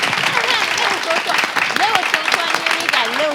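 Audience applause on a French-language broadcast show, a dense wash of clapping with voices and cheers talking over it.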